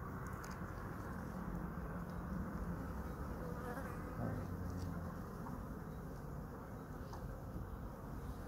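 Honey bees swarm and buzz around an opened beehive, a dense, continuous droning hum that stays close and loud throughout, with no talking.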